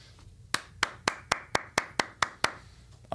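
Crisp, evenly spaced claps, about ten in a steady beat, ring out from an audience at a political speaking event, fairly close and clear over a quiet background.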